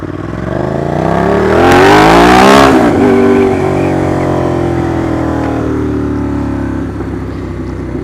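A 2015 Ducati Monster 821 motorcycle engine revs up loudly and close, its pitch climbing then easing into a steady drone as the bike rides on.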